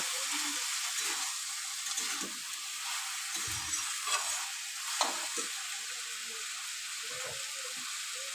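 Fried vegetables sautéing in a pan for moong dal khichdi give a steady broadband sizzle, with intermittent scraping stirs and occasional clinks running throughout, close and moderately loud.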